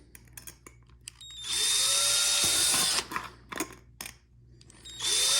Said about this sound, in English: what I'm gonna do now is go around the edge and drill all these holes.